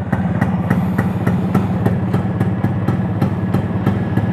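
A Yamaha RX100 motorcycle with its stock muffler idles up close, its two-stroke engine giving a loud, even putter with regular exhaust pulses that repeat several times a second for the whole stretch.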